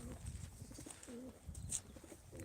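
Pigeons coo in a coop, low soft rolling calls repeating every second or so at moderate distance, with faint shuffling and a brief higher chirp in the background.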